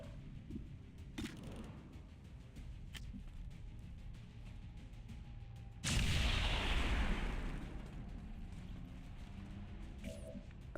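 A claymore detonating in the tactical video game XCOM 2: War of the Chosen, one sudden loud blast that rumbles and fades over a couple of seconds amid quiet game ambience.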